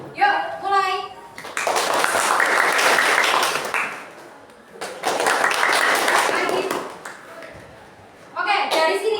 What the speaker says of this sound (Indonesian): silakan tepuk tangan dulu